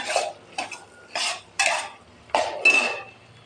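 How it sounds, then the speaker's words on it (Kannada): Okra frying in a pan while being stirred with a utensil, heard as several distinct bursts of scraping and clattering against the pan with quieter sizzling gaps between them, close by. "ಈ ಥರ ಬೆಂಡೆಕಾಯಿ ಫ್ರೈ ಮಾಡಬೇಕು"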